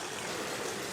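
A new water feature beside a statue in a Ljubljana square, Slovenia, gives off a continuous, even rush of flowing water, fairly loud and close, without talk.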